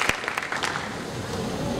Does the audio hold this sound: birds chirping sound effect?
no